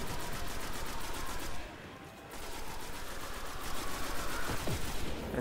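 Rapid automatic gunfire in the video game Destiny, aimed at a target, a dense continuous rattle of shots with a brief lull partway through before it resumes, loud and steady.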